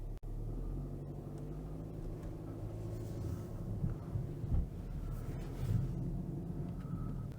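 A Renault Grand Koleos 2.0 gasoline turbo with all-wheel drive climbs a slippery snowy road in snow mode, giving a steady low engine and road rumble heard from inside the cabin, with a few small bumps along the way.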